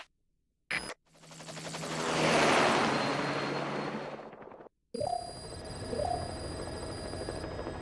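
A helicopter in Metal Gear Solid V: The Phantom Pain rises in a loud rotor and engine whoosh that swells and fades, then cuts to a quieter steady hum with tonal electronic game sounds.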